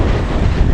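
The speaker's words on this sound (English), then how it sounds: "we're definitely getting wet as the wind blows" Strong wind roars across the slopes of Cotopaxi volcano during a wet, stormy hike, a loud, steady buffeting rush battering the microphone without a break.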